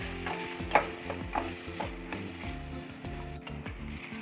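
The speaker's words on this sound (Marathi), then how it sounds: "कांदे चांगले परतवून घ्यायचे, गुलाबी रंग येईपर्यंत परतवायचे ते" Onions sautéing in a pan with a little salt for street-style egg ghotala, a low sizzle mixed with rhythmic scraping and clattering stirs, close with no voices.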